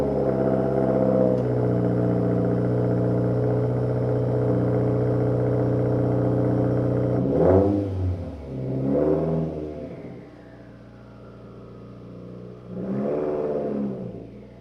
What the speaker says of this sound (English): if you do like everything or just the catback, it will really make your car kind of like, I want to say rumble